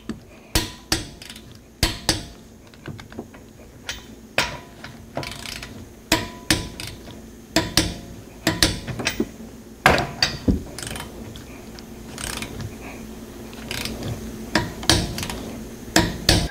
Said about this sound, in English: Now we're gonna torque the lug nuts.